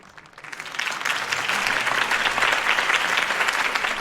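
A crowd applauds in Batman: The Telltale Series, the clapping swelling up from quiet over the first second into a sustained, dense ovation that stays steady to the end.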